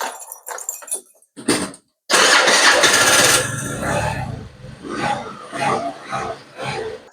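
A GY6 scooter engine cranked by its electric starter: short starter bursts and clicks, then the engine catches with a loud roar that settles into an uneven, pulsing idle.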